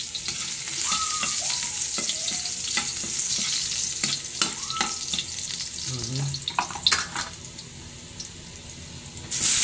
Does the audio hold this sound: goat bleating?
no